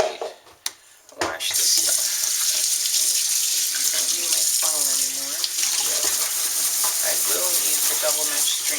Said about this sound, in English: Clean off my strainer, wash my jar, wash my bowl.